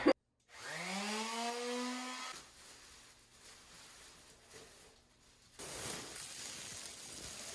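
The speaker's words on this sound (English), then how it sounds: "now I'm going to get my sander out and smooth that down" An electric sander smooths down filler during a budget DIY bathroom makeover; the motor whines up in pitch as it spins up, then drops to a softer hiss of sanding before a louder burst of abrasive scrubbing near the end.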